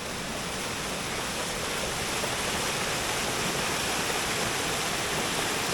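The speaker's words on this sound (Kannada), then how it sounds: "ಆ ನೀರಿನ ಶಬ್ದ ಕೇಳಕ್ಕೆ ಚಂದ" Flowing water in the Kemmannugundi hills, a constant dense rushing roar like a stream or waterfall, close and even throughout with no voices.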